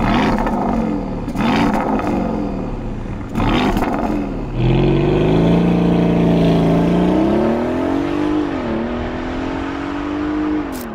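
A 2024 Porsche Cayenne engine is revved several times in short bursts, then held in a long, loud, close roar whose pitch rises and dips before settling.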